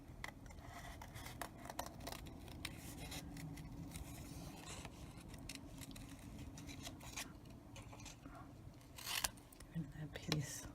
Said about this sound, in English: These scissors are, I believe, cutter bee scissors. They're very sharp and very nice to use to do this. Fussy cutting